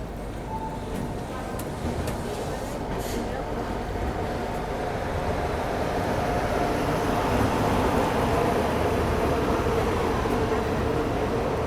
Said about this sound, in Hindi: अपन भोपाल से निकल रहे हैं और सामने आ रही है निजामुद्दीन हैदराबाद दक्षिण एक्सप्रेस